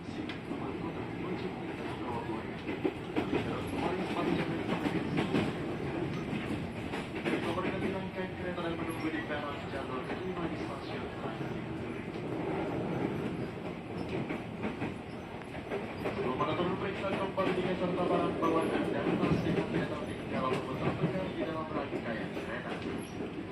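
A commuter train rumbles steadily along the rails with a rhythmic clatter and occasional squeal, heard from inside, with people talking throughout; a KRL train in the Jakarta area.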